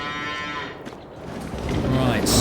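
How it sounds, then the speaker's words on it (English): Cattle in a barn in the video game Farming Simulator 22 moo loudly and close, several drawn-out calls overlapping amid barn noise, with a brighter clatter at the very end. "there's some of our lovely cows."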